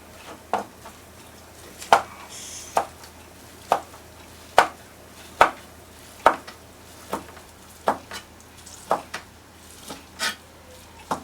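Sharp, regular knife chops on a cutting board, cutting mitsuba herbs, about a dozen evenly spaced strikes, close and crisp with no talking.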